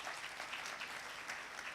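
Audience members at the Bank of Uganda's annual suppliers' conference clap in a soft, even patter, the applause faint and continuous for under two seconds.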